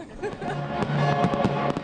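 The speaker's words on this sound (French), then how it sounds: "Les feux d'artifice royaux et leur impressionnant bouquet final embraseront le Grand Canal" A royal fireworks display's grand finale over the Grand Canal crackles and pops in rapid, dense bursts, heard at a distance under a speaking voice.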